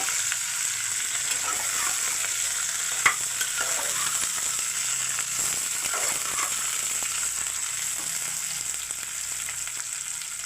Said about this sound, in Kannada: ಈರುಳ್ಳಿ ಹಾಕೊಂಡು ಸ್ವಲ್ಪ ಹುರಿಬೇಕು.